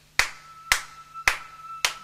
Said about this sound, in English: So if I just start clapping